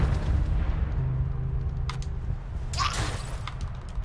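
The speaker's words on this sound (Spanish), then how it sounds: "Ah, esta es la explosión." An explosion set off by an item in the dark action game Dark Devotion, a deep low boom rumbling under a short burst of crackling debris, with mechanical creaks around it and no talk.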